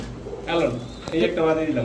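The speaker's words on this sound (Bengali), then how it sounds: "খুব সুন্দর একটা মাদি কবুতর" A female pigeon coos twice in soft, low, throaty bursts close by, against light background noise.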